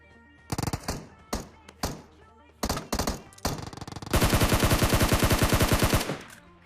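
Gunfire in a battle royale video game: several short bursts of shots, then a loud, rapid sustained burst of automatic fire for about two seconds, close and dominant.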